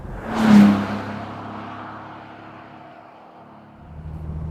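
A 2013 Bentley GT Speed Convertible driving fast, its engine rising to a loud whooshing peak early on, then settling into a steady, moderately loud road and engine drone with wind rush.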